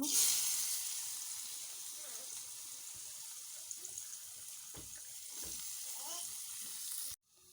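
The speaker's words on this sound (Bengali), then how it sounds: "মুচমুচ করে বেজে নেব এখন পেঁয়াজগুলো বেজে নেব" Onions fry in hot oil for a crispy finish, giving a steady, close hiss and sizzle that holds evenly before stopping abruptly near the end.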